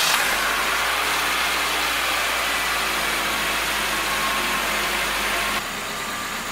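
A 1996 Toyota Corolla engine, being bled after a radiator replacement, runs at a steady idle with a constant hum and hiss that drops slightly in level near the end.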